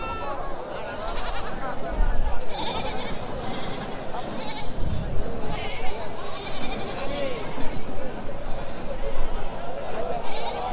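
Goats bleating at a crowded Kurban livestock market in Mymensingh, several calls rising out of a dense crowd hubbub while someone talks over it.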